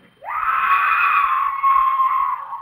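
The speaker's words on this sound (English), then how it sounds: "press this scream button" A recorded scream sound effect from an alarm button, meant to scare off a burglar, plays as a single sustained, loud shriek lasting a couple of seconds with no talk over it.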